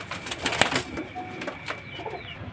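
Pigeons sold by a breeder in Beldanga give soft coos amid sharp bursts of wing flapping, with a few quick flutters close by and no voices.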